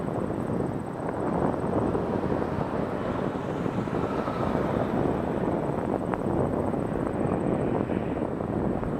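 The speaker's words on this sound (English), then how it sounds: "SAS 948 headed to Stockholm on a 321neo, Scandinavian Airlines" Scandinavian Airlines Airbus A321neo departing Toronto Pearson for Stockholm on a hot afternoon, a steady, moderately distant engine rumble with a thin high tone throughout and a little wind, without voices.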